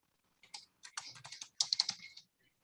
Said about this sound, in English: I'm typing the information for you, Nancy, yes.